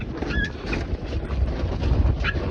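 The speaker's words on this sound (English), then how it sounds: "You can hear the jib flapping like crazy because I've brought the main in." A jib sail flutters and rattles in gusty wind with a low rumble of wind buffeting the microphone, no speech, close and continuous for a couple of seconds.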